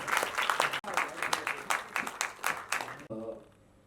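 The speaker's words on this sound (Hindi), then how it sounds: "तालियां हो जानी चाहिए इतनी खूबसूरत फिल्म के लिए।" Audience clapping at a film screening, lively uneven applause with scattered whoops, breaking off abruptly near the end as a voice takes over.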